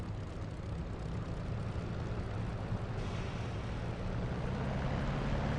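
Steady droning engine roar of a Spitfire taking off in a flight simulator, a continuous broadband propeller-engine rumble that holds level and swells slightly partway through.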